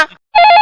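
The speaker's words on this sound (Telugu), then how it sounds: "ఇంకో ఫోన్ మోగుతుందన్నా?" A short burst of electronic phone ringing, a bright trilling tone that starts after a brief silence and holds steady, loud and close.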